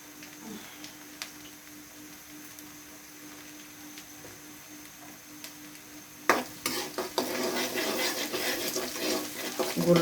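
Chopped garlic frying in oil in a pan for a jujube (boroi) pickle, a steady quiet sizzle that swells louder and busier in the last few seconds as the garlic is stirred.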